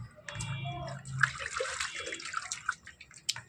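A child being bathed sets off intermittent water splashes and trickling, with small sharp drips and slaps over a low background; the sound is close and moderately quiet.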